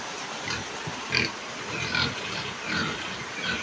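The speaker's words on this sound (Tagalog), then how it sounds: "Ito yung mga baboy." Several pigs on a farm pen grunt and oink in short bursts, moderately close over a steady background hum, with no talk.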